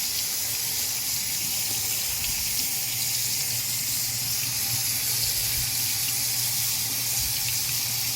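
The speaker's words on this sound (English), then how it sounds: "now what we're going to do is rinse some blueberries." Tap water runs steadily into a kitchen sink while blueberries are rinsed, a continuous close hiss and splash with no talk.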